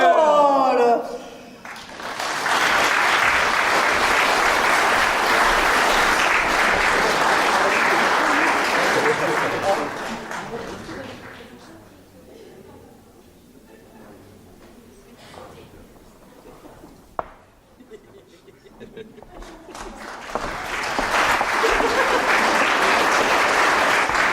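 Audience applause at a live French comedy show, loud and sustained for about ten seconds, easing off into quieter scattered clapping and murmur, then swelling again into a full round of applause near the end.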